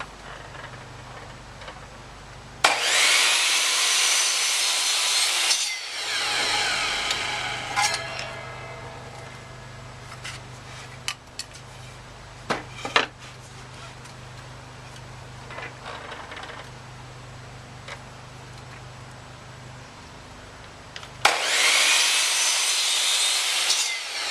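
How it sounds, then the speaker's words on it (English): A power saw cuts miters across wooden stock for a curio shelf: a loud whining burst of cutting, then quieter rubbing and clicking handling noises, followed by another loud cut near the end, all close with no talking. "Now I can do my miter cuts on my front piece."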